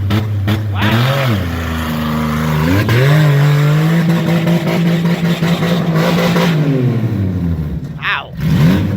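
A Chrysler Pacifica all-wheel-drive minivan, neglected and with a transmission problem, accelerates hard. Its engine revs climb in several rising sweeps and hold a loud, strained drone, then drop sharply at the end.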